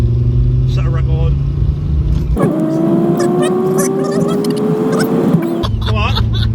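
A Mercedes 190D 2.5 diesel with its factory air filter accelerates hard, its engine note climbing steadily through a long pull and dropping sharply at quick gear changes, loud and close with a person talking over it.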